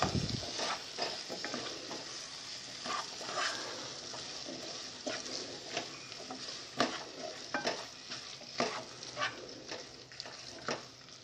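Chopped tomatoes and onion stir-fried in a pan for chicken dum biryani, with a soft continuous sizzle broken by repeated scraping and clacking strokes of a spoon against the pot, close and moderately quiet, with no voices.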